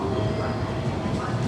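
Rumbling interior of a train running from Hakata Station toward Arita, a steady broadband roar with low rattling and no distinct voices, close and continuous.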